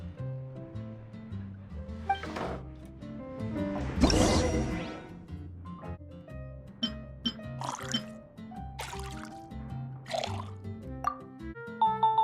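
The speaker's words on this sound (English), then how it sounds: "let's water it down before serving it to her" Water poured and dripping into a drink in Genshin Impact, a sustained pour in the middle flanked by separate plops and drips over soft background music, close and clear.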